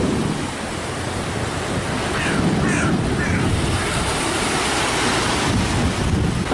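Boat wash surges against the River Thames shore at Rotherhithe, a loud continuous wash of broadband water noise with wind buffeting the microphone, swelling slightly midway and staying steady to the end.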